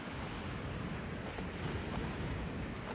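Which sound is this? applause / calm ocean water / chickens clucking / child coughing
calm ocean water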